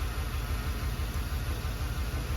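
Close, loud steady drone of a 2005 Chevy Express box truck engine idling with one ignition coil unplugged, a dense low rumble with a faint buzzing edge and no voices.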